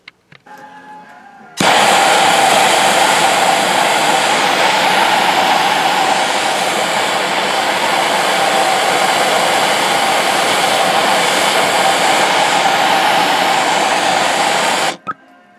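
A gas torch roars steadily and loudly while heating copper pipe for soldering a replacement domestic coil on a Dunkirk Empire tankless boiler, kicking in abruptly after a quiet start and cutting off near the end.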